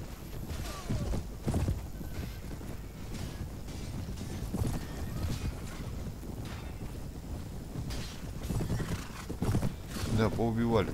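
Horse hooves clip-clop in Mount & Blade Warband: Prophesy of Pendor, with uneven thudding bursts mixed with wind-like noise and voices talking over the action.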